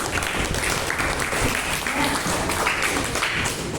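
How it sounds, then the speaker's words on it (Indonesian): Applause from a classroom of students fills the room, a dense, steady patter of many hands clapping close by, holding for several seconds. "Oke, beri tepuk tangan buat ini."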